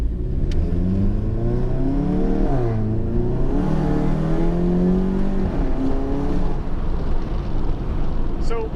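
Volkswagen Golf MK7 GTI with a Cobb Stage 3 tune and catless downpipe, heard from inside while driving: a steady loud engine drone that rises and falls in pitch through acceleration and shifts, with a faint voice now and then.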